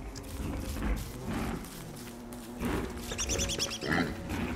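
Pigs grunt in the survival video game Don't Starve, a few rough, low snorting calls in short bursts over a steady ambient background, moderately loud and close.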